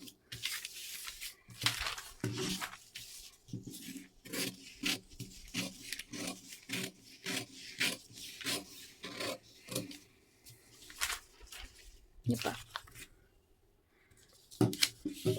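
Scissors cut through dress sleeve fabric along a drawn line, giving a run of rasping, rustling snips in an irregular rhythm, close and fairly quiet, with no talking.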